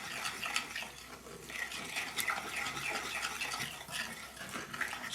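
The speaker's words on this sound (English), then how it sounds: "I just keep on mixing it until it's smooth" Yoyo biscuit dough is mixed by hand, giving soft, steady scraping and sloshing strokes that repeat quietly and close up, with no voices.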